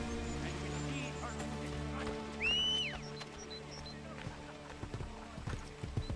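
Horse hooves in the video game Assassin's Creed Brotherhood, a steady clip-clop of galloping over a low droning music bed, with a brief whinny and scattered clatter toward the end.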